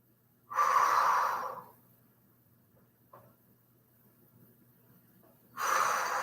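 Heavy, effortful breaths after a strength-training set: two long, loud exhales separated by a quiet pause with a faint short breath in between, close to the microphone.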